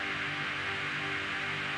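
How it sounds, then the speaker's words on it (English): Frozen, resampled room ambience forms a steady, dense hiss much like white noise, with faint sustained tonal hum lines beneath it, constant in level throughout and free of speech. "Almost like a white noise."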